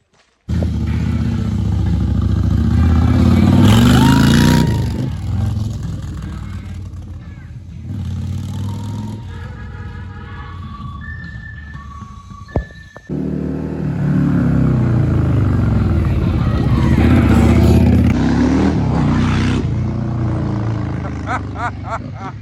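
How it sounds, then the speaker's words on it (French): A Harley-Davidson motorcycle rumbles and revs close by as it rides off, with the engine swelling, easing back and rising again, and voices talking over it. "ils lui ont fait faire un petit tour avec sa Harley là"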